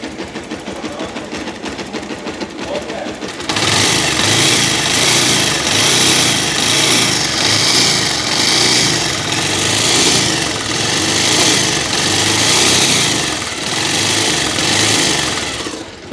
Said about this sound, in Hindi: ये देखो भाई, इसका इंजन का साउंड कुछ इस तरीके से है